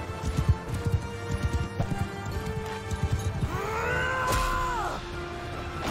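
A horse gallops in the video game Mount and Blade Bannerlord, with rapid rhythmic hoofbeats up close, followed by a loud neighing whinny over continued movement.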